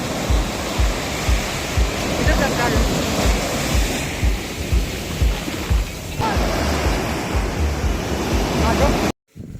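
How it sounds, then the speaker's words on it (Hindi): Sea waves break continuously on a Goa beach shore, a loud, rushing surf with rolling swells and some wind buffeting the microphone, ending in a sudden cut. "समुद्र की लहरों का किनारे पर बैठकर आनंद लेते हैं"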